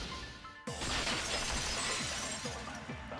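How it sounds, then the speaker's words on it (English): A vase shatters in the video game Danganronpa 2, a sudden loud crash at about two-thirds of a second followed by a bright spray of breaking glass-like shards that rings and scatters for several seconds before slowly thinning out. "The vase is what broke, not the window."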